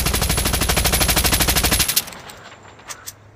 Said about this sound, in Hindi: ये स्कोप ऑन किया, फायरिंग कर रहा हूँ